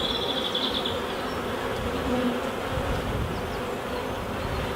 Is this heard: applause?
no